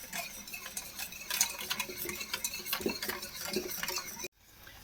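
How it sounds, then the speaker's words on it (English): A spoon stirs salad dressing in a pan over low heat, giving a steady, quiet run of scraping and clinking strokes that stops abruptly near the end. "I'll just keep stirring this dressing and let this thicken up and congeal"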